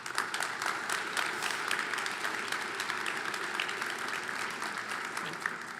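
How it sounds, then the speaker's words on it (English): A roomful of guests at a community club breakfast claps in steady, dense applause that runs the whole stretch without a break, heard from a moderate distance with light crowd murmur. "Let's give them all a round of applause."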